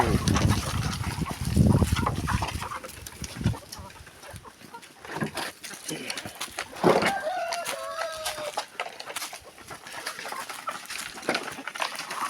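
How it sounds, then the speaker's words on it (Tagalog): Rhode Island Red chickens at feeding time on a farm cluck and squawk nearby in uneven bursts, with scuffling and rustling in the background; a few sharper calls stand out near the end. "magpapakain tayo ng ating mga alagang manok"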